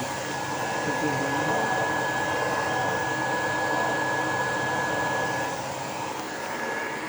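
A 710-watt air conditioner runs from a 24-volt system of two used car batteries, giving a steady, even whooshing hum with a faint constant whine, unbroken for the whole stretch and with no voices.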